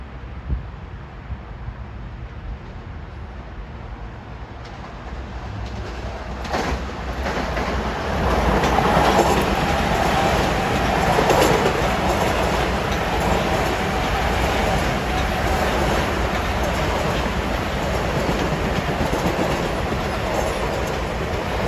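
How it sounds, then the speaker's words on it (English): A Long Island Rail Road train, number 2094 from New York to Ronkonkoma, rolls through Elmont station, its rumble building and holding loud and steady with wheel clatter and a faint high squeal. "here comes train 2094 from New York to Ronkonkoma at 340"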